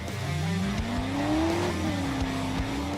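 Car driven in the NFS Most Wanted video game, a loud, close engine whose pitch rises through a gear as it accelerates, with tire noise underneath.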